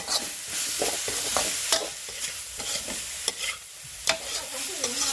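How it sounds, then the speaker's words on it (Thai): Ingredients dry-roasting with kaffir lime leaves in a hot pan, with a steady soft sizzle and repeated scraping and stirring strokes of a utensil across the pan, no voices. "อันนี้เราก็จะคั่วแห้งๆนะครับ ใส่ใบมะกรูดเข้าไปหน่อย"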